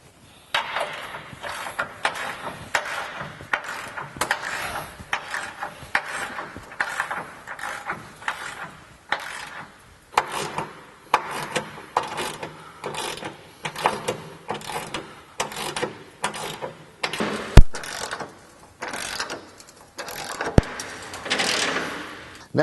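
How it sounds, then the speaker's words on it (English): An 18mm and a 3/4 inch ratchet tighten bolts on a JK oil pan, transfer case and fuel tank skid plate, making rapid bursts of close metallic clicking in uneven runs with short pauses, and no speech. "use the 18mm, tighten up the factory bolts that we use to hold the skid up in place"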